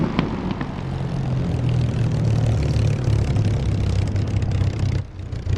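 A Spitfire's propeller engine drones steadily in the DCS flight simulator game, a loud continuous low rumble with faint higher tones that briefly dips near the end.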